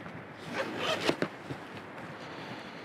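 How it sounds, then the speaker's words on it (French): A zipper on a fishing bag being drawn in a few quick pulls, close and fairly quiet, with rasping bursts early on and soft rustling afterward. "Après on a aussi la fermeture éclair."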